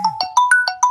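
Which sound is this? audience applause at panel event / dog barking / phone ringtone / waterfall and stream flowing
phone ringtone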